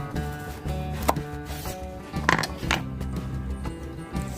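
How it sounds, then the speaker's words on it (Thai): Knife chopping food in half on a cutting board in a home kitchen, several sharp distinct cuts at an uneven pace, close and fairly loud with a low background hum. "หลังจากนั้นหั่นครึ่งนะคะ เอาที่เราพอใจเลย"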